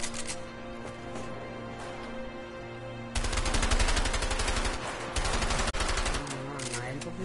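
Rapid bursts of gunfire from the video game A Way Out, loud and dense in the second half after a steadier stretch of game sound and music, with a voice talking over parts of it.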